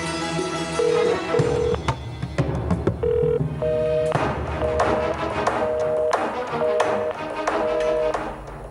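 Telephone handset being dialed in an indoor drama scene, short tonal beeps stepping in a quick irregular sequence over a busy background of music and thumps, no talk.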